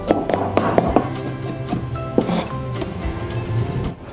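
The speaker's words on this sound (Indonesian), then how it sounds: "Bawang putih kita cincang sangat halus." A knife taps rapidly on a cutting board, finely chopping garlic in a series of close, sharp knocks, with a pause in the middle before the chopping resumes more loosely.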